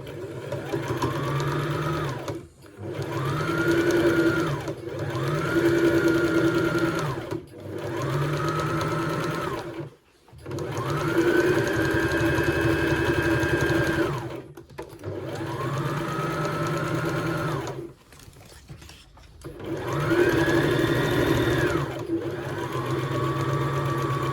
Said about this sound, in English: lift your foot, and then start sewing around the pocket